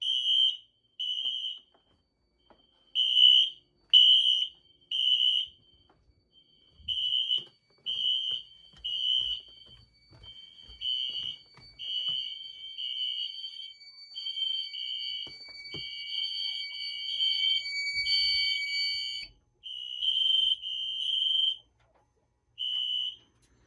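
Fire alarm sounders blare during a detector system test, a loud piercing electronic tone pulsing in repeated bursts, then holding steadier, with a second higher-pitched sounder layered in for a stretch before falling silent near the end.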